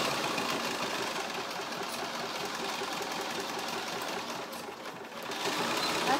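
A sewing machine stitches a tote bag, running in a steady, continuous mechanical whir close by. The whir dips briefly near the end, then resumes.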